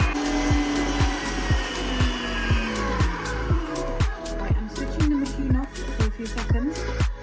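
An electric mixer beats tea cake batter in a bowl, making a steady motor whine with rhythmic scraping knocks as the beaters turn, loud and close.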